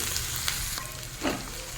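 Chopped raw green mango stirred into frying onion, ginger and garlic for a prawn malai curry, with a steady close sizzle and a couple of brief scraping stirs over a short moment.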